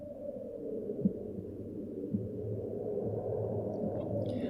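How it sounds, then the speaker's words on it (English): A low, muffled heartbeat from RWBY Volume 9 Episode 1 throbs under a droning hum, with a few soft thuds about a second apart, faint and without talk. "And now I'm hearing a heartbeat."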